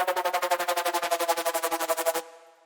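Jump-up drum and bass lead bass from a Serum sawtooth patch with nine-voice unison, its level chopped by an LFO at sixteenth notes into a fast stuttering pulse, alone, ending in a short decaying tail.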